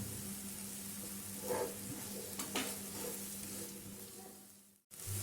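Onion and capsicum sauté in a pan with a continuous, even sizzle and a couple of stirring scrapes before it cuts off abruptly near the end.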